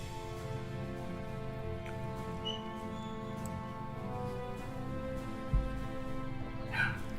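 Small yappy dog barking in the background, faint and intermittent beneath a steady hum of game music or room noise.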